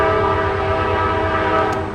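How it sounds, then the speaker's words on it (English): A full freight train rolls through the city of Oneonta near a ballpark, a loud steady rumble with sustained horn-like tones running the whole time and a faint rattle of cars underneath. "A full train passing through the city."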